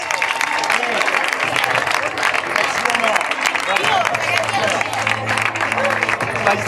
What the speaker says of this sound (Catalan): Un fort aplaudiment per aquestes noies.